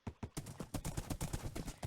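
Horse hooves clip-clop in Minecraft as a steady, quick series of about a dozen close, punchy thuds crossing extreme hills terrain, with no talking.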